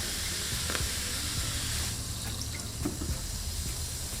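Diet soda water poured into a kiwi mocktail over ice gives a soft, continuous fizzing trickle with faint drips, quiet and close, with no talk.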